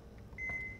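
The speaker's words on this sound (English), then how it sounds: "This is gonna beep at me" A beep from the horror video game In Sound Mind sounds as a single thin electronic tone of about a quarter second, faint over a low hum.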